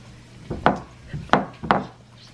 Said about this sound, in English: I'm just pressing this in to the bottom of the pan